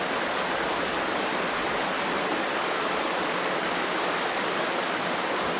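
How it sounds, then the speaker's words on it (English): A river in Alaska rushes steadily, a loud, unbroken broadband wash of flowing water that stays constant throughout with no pauses or other sounds. "Hopefully the river sound isn't too annoying"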